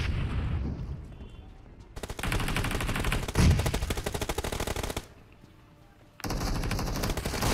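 Rapid automatic gunfire from a PUBG Mobile team deathmatch rattles in dense bursts, with a heavy bang near the middle, a brief lull of quieter ambience, then another sustained volley.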